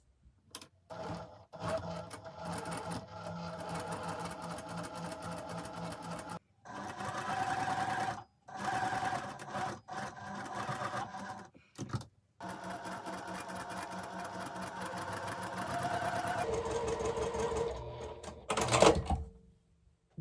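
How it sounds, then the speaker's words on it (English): A Juki sewing machine stitching fabric while quilting a block, running in several steady, fast whirring bursts separated by short pauses, with a brief sharper mechanical clatter near the end. "So we'll see if I can sew on the line"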